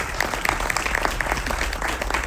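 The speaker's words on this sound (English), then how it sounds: "you guys give it up for Andrew's score" Audience at a Q&A screening of Pinocchio applauds the film score, a dense steady patter of clapping from a crowded theater lasting the whole moment.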